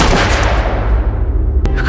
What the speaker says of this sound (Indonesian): 58 menembak lagi ke arah kepalanya.